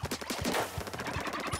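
Rapid dual-gun fire in Splatoon 2, a quick rhythmic stream of punchy shots in bursts, close and fairly loud with no talk.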